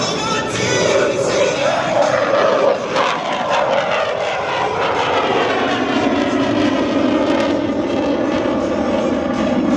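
An F/A-18 Super Hornet jet fighter roars past at an airshow, a loud, dense jet-engine rush that sweeps and slowly fades, with a faint crowd murmur underneath.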